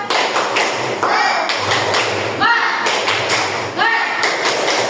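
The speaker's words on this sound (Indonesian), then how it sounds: "Coba kita tepuk semangat." Classroom group doing a rhythmic Indonesian clap chant, tepuk semangat, with patterned bursts of claps and thumps alternating with chanted voices, loud and close throughout.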